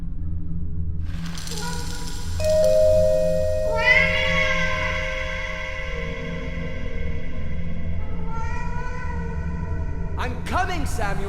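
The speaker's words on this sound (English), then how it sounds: "Your cat interrupts you, begging for food" Cat meowing for food in the Vertigo adventure game, a series of rising harmonic meows spread across several seconds over steady low game background hum, moderately loud and close.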